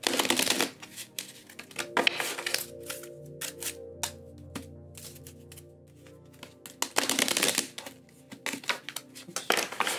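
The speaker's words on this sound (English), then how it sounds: "See if I can shuffle without messing up the cards." A deck of reading cards is shuffled in a few brief crisp riffling bursts, close and fairly quiet, with gaps of softer handling in between.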